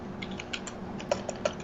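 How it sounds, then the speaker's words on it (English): Quick keystrokes on a computer keyboard, a short burst of light clicks with a few sharper taps near the end, close and clear with no talking. "I started typing underscore."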